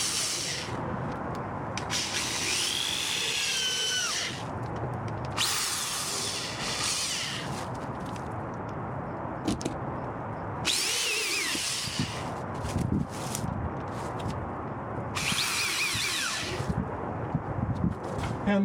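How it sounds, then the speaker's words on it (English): An electric drill drives 1 3/4-inch screws into the wood of a privacy fence, giving four separate bursts of loud whirring and grinding with short pauses between them. "It'll be an electric drill to get this done."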